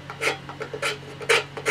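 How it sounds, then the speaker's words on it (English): A ferro rod scraped against Vermont fat wood, high-rosin resinous wood, giving four quick, close rasping strokes at a steady rhythm, each a short bright scratch with brief pauses between. "a ferro rod. I'm going to scrape some of that off."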